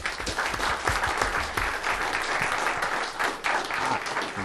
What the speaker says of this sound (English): Let's give Foreign Minister Kubiš a round of applause.